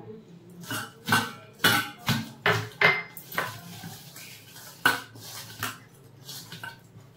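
Prawns are mixed with salt and turmeric in a bowl, with a run of clinking, scraping knocks of utensil against the bowl, loud and close, coming in uneven bursts.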